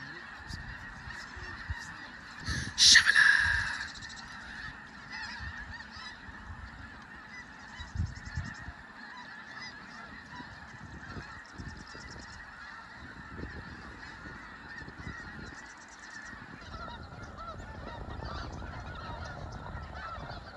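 A large flock of snow geese flies over, their honking calls overlapping in a continuous far-off chorus with occasional louder nearby honks.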